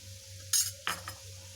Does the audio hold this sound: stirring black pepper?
yes